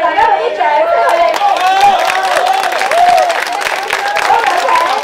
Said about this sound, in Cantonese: 我哋大家俾啲掌聲佢哋